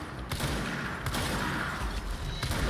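Gunfire from the video game Control rattles in rapid bursts, moderately loud, with a few sharper shot transients standing out over a steady stream of firing.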